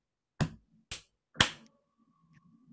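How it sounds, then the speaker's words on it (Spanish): Body percussion in a quiet room: a chest tap, then a finger snap, then a sharper hand clap, three distinct hits spaced about half a second apart, followed by faint low murmuring. "vamos a agregar el chasquido entre medio del tórax y la palmada"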